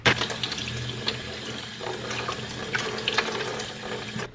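Tap water runs steadily into a kitchen sink while fresh strawberries are rinsed under it, a continuous close splashing stream with a few brief clinks and shifts in flow, no talking.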